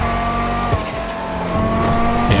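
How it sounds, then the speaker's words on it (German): A tuned Banshee 900R turbo engine in Grand Theft Auto 5 drones loudly and steadily with a strong low hum, its pitch shifting briefly a couple of times as the car drives. "Ja, könnt ihr hören halt diese anderen Turbo-Sound."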